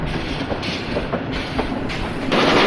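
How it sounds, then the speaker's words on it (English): A Great Western tank engine pulls a local passenger train along a branch line, its wheels clicking rhythmically over rail joints with a steady rumble and a brake hiss toward the end. "Another Great Western tank engine arrives on the branch line with a local passenger train."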